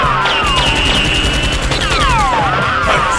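Rapid bursts of gunfire sound effects in a staged Nerf gun fight film, loud and close, with sweeping electronic whines running through the volley.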